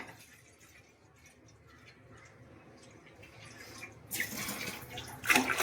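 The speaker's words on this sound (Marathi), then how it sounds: "थोडस अजून पाणी घाल." Water is poured into a pot to boil basmati rice for chicken biryani, starting as a quiet trickle and swelling into a loud, splashing gush near the end.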